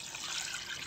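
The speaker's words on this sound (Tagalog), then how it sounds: "Dagdagan na natin ng tubig" Water pours or trickles steadily into a cooking pot while pork head meat is being boiled for linagang ulo ng baboy, a brief close hissing splash with no talk.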